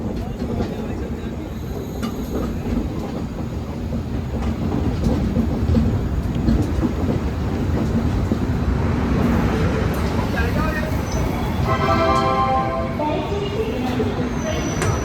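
A long-distance express train rolls into Renigunta junction, a loud continuous rumble with rhythmic clatter of wheels and a rising metallic screech toward the end, while people talk nearby.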